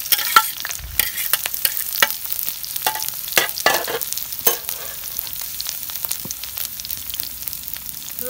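Onions fry in hot mustard oil with a steady sizzle, broken by repeated sharp scrapes and taps of a spatula stirring close up. No one speaks.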